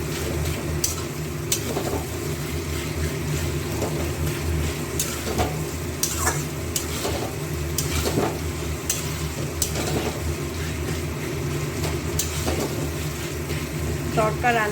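Ginger, green chili and garlic paste frying with onions for a dhaba-style egg tarka, a steady sizzle with occasional stirring scrapes of a spoon in the pan, while a person speaks over it.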